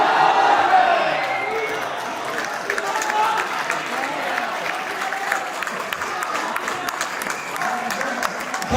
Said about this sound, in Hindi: भरपूर तालियां जनाब अब्बास ताबिर साहब के लिए।